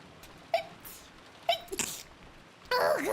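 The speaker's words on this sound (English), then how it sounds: "I'm gonna sneeze." A person sneezes in a rising build-up of sharp catches of breath, then a loud final burst near the end, close and clear with no talk.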